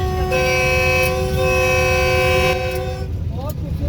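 A Pakistan Railways train horn sounds as the train crosses Kotri Bridge over the Sindh River at night, a loud, steady tooting tone held for several seconds before dropping off, over rumbling rail noise.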